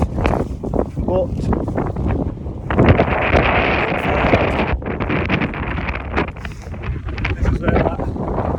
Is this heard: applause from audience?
no